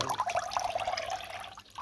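Water splashes and trickles as it is poured into a container, about nine litres of it, in a soft, close, continuous stream.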